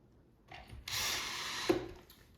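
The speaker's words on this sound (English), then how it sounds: "Some pocket holes right here. We'll just screw down into the top." A power drill drives screws through pocket holes into the top of a wooden shoe bench, a short whirring burst that rises in pitch and ends with a sharp knock as the screw seats.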